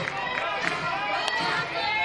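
Noisy crowd at a college softball game between Furman and Clemson, a continuous broad roar of voices and cheering with a commentator talking over it.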